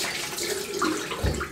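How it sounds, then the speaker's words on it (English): A brief splash of water goes into a shaving lather bowl of Proraso Green soap, a close, gurgling pour lasting only a moment with no speech. "Little bit of water I'll put in there."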